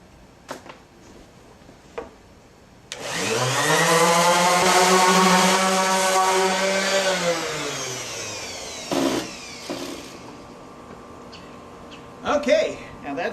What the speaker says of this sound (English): I'm going to hit it now with the Orbital sander on both sides and smooth down the top and both faces of the wood.